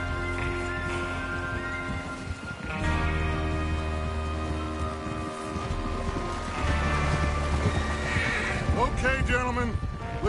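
Horses in a Wild West video game whinny and neigh over a busy mix of hoofbeats, music and game ambience, with a voice talking through much of it; the louder whinnies rise near the end.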